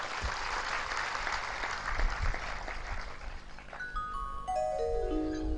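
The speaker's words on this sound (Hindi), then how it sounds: "ताली बजाने से नहीं होगा।" Applause from a large crowd at a Bhagwat Katha religious discourse in Pune, a dense steady wash of clapping that goes on for several seconds before fading under a rising tone.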